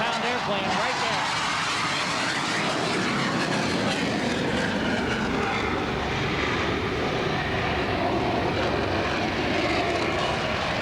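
A 40,000-pound Blue Angels jet rolls past at the 1993 Point Mugu naval air show, its engine a continuous loud roaring wash that holds steady throughout, with a commentator talking over it.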